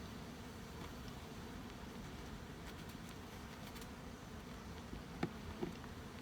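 Bees buzz around beehives outdoors after rain showers, a faint, steady, distant hum with a couple of brief nearer passes.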